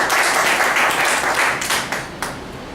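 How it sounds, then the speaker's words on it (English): A group applauds a speaker at an evaluation session, with steady, fairly loud clapping that thins out and fades toward the end. "please give him a big round of applause"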